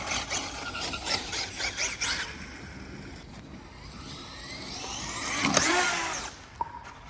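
A Traxxas Maxx Slash 6s RC car races toward a ramp and jumps, its motor rising to a high-pitched whining squeal that sweeps upward and peaks, then drops off and ends with a brief knock.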